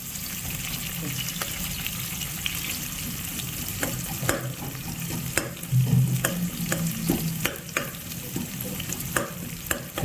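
Chopped onions sizzle loudly in a hot pan for badnekai palya while a spoon stirs and scrapes through them, with scattered sharp clinks and taps against the pan over the constant close frying hiss.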